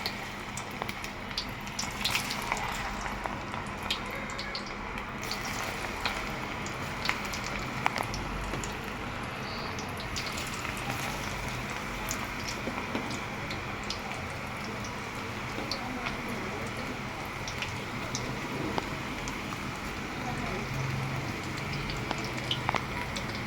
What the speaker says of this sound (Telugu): ఆయిల్ హీట్ అయింది. ఇప్పుడు మనం ఫ్రై చేసుకుందాము.